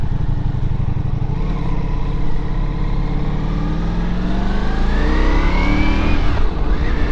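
Motorcycle engine running steadily on a narrow, winding country road near Mespelbrunn, a loud continuous drone that rises in pitch as the rider accelerates toward the end.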